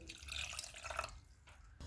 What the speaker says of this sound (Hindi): पानी डालेंगे